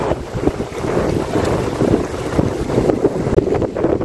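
Steady rushing of large waves and water on Nikli Haor wetland in Kishoreganj, Bangladesh, with strong wind buffeting the microphone, continuous and loud throughout.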